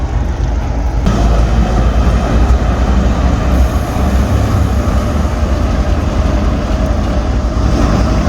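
A non-electric diesel locomotive on a test run at Prithla station on the Western Dedicated Freight Corridor near Faridabad gives a steady, loud rumble and rolling drone throughout, growing fuller after the first second.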